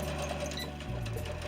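A sewing machine runs continuously up close, a steady rapid whir with a slight change in motor pitch partway through, while two curved fabric pieces for a doll gown are stitched together.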